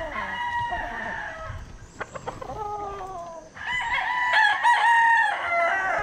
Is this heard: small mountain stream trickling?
no